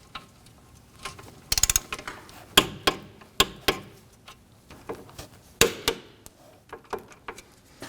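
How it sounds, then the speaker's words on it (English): A torque wrench tightening the brake caliper bracket bolts on a 2013-2015 Subaru XV Crosstrek, heard as scattered close metallic clicks and taps, including one quick burst of rapid ratcheting. "Torque the bracket bolts to 59 foot-pounds."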